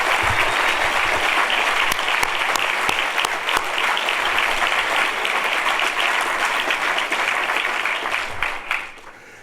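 Audience at a 2019 MBA graduation ceremony applauds steadily and loudly for about nine seconds, a dense wash of many hands clapping that thins and fades at the end.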